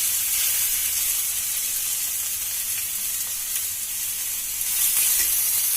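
Onions frying in hot oil in a kadai with salt added, a steady broadband sizzle that runs continuously and close-up, swelling slightly near the end, with no talk over it.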